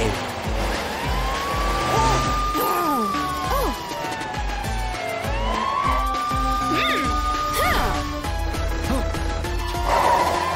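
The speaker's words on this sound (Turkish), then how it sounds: "İşte polis arabası Matilda Krokomil'i kovalıyor" A police siren wails in long rising and falling tones, mixed with passing car sounds and other busy noises throughout.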